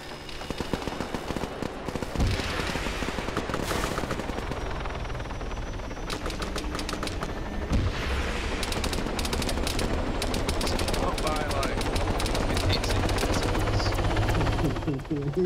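Video game firefight with two helicopters strafing, a steady rotor drone beneath rapid bursts of machine-gun fire and scattered gunshots, dense and loud throughout, while a player talks over the action.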